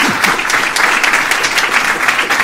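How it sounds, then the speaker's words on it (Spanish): An audience at a talk on modern mysticism breaks into steady, dense applause, a continuous wash of clapping that stays loud and even throughout with no voices over it. "vamos a darle un aplauso"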